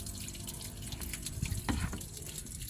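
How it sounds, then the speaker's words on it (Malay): Water is poured into a car radiator during a flush, a steady splashing, gurgling trickle with brief louder surges, heard up close and with no talking. "Kita akan tuang air sampai air itu bersih juga."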